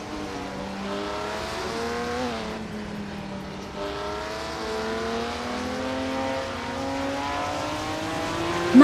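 Race cars in a racing video game, several engines droning and rising in pitch together as they accelerate off the line, a continuous loud layered whine with a short squeal at the very end, no talk.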